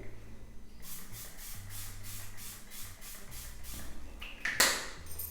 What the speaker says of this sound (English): So I'm going to take my setting spray.